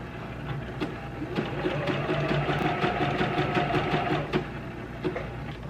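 A sewing machine zigzag-stitches around the edge of quilt fabric, running in a steady, continuous rapid whir with a rhythmic mechanical pulse, close and moderately loud, with no talking.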